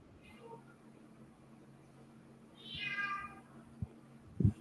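A cat meows in the background around the middle, a short drawn-out cry under low room noise and a steady hum, with a brief knock near the end.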